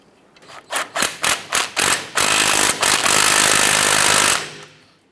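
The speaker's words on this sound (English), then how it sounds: "Once you get that nut started, we'll go ahead and tighten that down." An impact tool tightens the upper ball joint nut on a 1994–2004 Chevy S10, firing five quick bursts and then one long sustained hammering run, loud and close with no talk.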